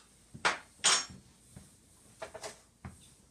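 Dry baking ingredients are mixed in a bowl, a few sharp clinks and scrapes of utensil against the bowl, close and irregular, with quiet pauses between.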